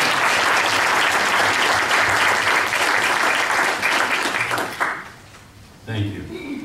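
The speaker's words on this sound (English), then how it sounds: "So how about a nice round of applause for us?" Attendees at a board of education meeting give a round of applause, steady dense clapping that fades out near the end before a voice briefly speaks.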